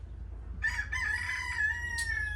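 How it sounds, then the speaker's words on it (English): A farm rooster crows once, close and clear, its drawn-out call rising and then trailing off over a quiet low background hum. "Little rooster podcast going on at the same time"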